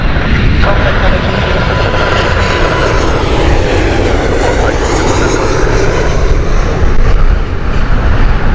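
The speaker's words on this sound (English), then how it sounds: "Okay, Airbus A320 Milan flight from British Airways." A British Airways Airbus A320 jet approaching Heathrow, its engines a loud, steady roar that fills the whole stretch with a faint whine rising over it.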